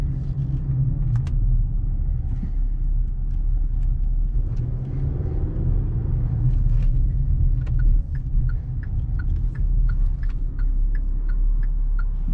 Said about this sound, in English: if you do hear a little bit of wind noise, that's not the car, that's the AC that's blasting right now.